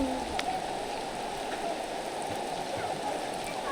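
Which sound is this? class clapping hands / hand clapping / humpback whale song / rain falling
rain falling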